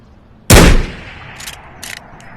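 A single loud, sharp shot from the Eastwood gun in the VR game Ghost of Tabor, with a quick decaying tail followed by a few faint clicks and rattles.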